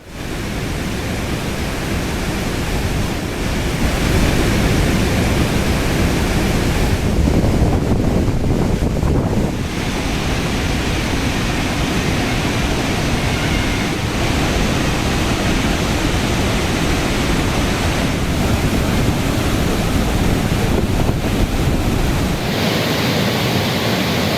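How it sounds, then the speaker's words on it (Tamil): Flash flood water roaring down the Courtallam waterfalls during heavy rain, a loud, continuous broadband rush with no voices, steady for the whole stretch with slight surges and a brief drop near the end. "குற்றால அருவிகளில் தொடர்ந்து இரண்டாவது நாளாக காட்டாற்று வெள்ளம் ஆர்ப்பரித்து பாயும் நிலையில்"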